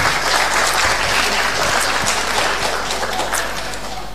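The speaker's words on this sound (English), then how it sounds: "Please give applause, big applause for them" Audience applauding event staff at a university faculty live-streamed event, a dense, steady wash of many hands clapping that fades slightly toward the end.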